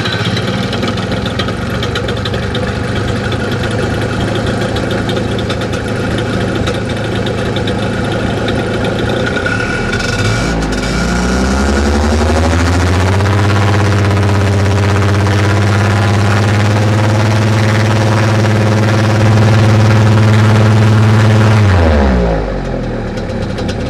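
A two-stroke paramotor engine with a Bing carburetor, airbox and foam filter is run on a test, idling steadily before revving up to a loud, sustained high-rpm buzz, then dropping back down at the end.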